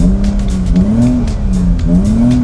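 A BMW E46 drift car with a hydraulic handbrake slides under load, its engine droning and wavering in pitch over a steady roar, loud and close from inside the cabin, no speech.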